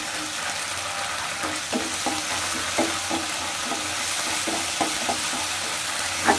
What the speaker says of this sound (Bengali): আর তেলে আমি মশলাটাকে আরও ভালো করে ভেজে নেব, যাতে কাঁচা গন্ধটা চলে যায়।